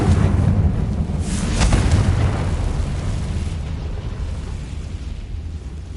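Confringo fire spell explosion in the Hogwarts Legacy game, a loud booming blast with a crackling burst peaking early, then a long rumbling decay fading steadily to the end.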